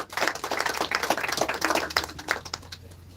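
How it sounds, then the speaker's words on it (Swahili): An audience claps steadily in a dense burst of hand claps at an outdoor gathering at Crescent Villas in Naivasha, fairly close and even, thinning slightly toward the end. "Tupigeni makofi pia yakikuja."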